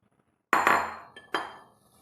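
Dry fruits being stirred into plum cake batter for a Christmas bake, heard as two sharp clinks of a spoon against the bowl, each ringing out briefly, close and fairly loud with no talk.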